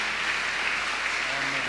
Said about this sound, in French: Tu peux balancer ta main et tu peux applaudir pour encourager le pasteur.